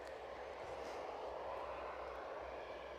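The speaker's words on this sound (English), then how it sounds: "Let's have a little bit of taxiing. EasyJet." EasyJet airliner taxiing at Edinburgh Airport, a steady broad jet-engine roar held at constant level throughout, heard from a distance outdoors with no speech.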